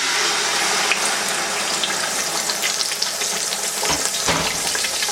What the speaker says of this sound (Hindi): तेल गरम हो चुका है, इसमें अब आप ऐड करेंगे प्याज जो हमने ग्राइंड की हुई है